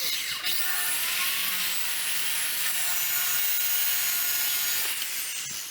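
A power saw cuts through a clamped cabinet piece, a loud, bright, continuous high-pitched whine and rasp that holds steady for several seconds before tapering off.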